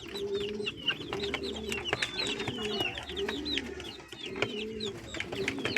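Young chickens grown from brown and black chicks, now white-feathered, cluck and chirp steadily close by, their calls overlapping in a busy coop with pigeon-like cooing and bird chatter throughout.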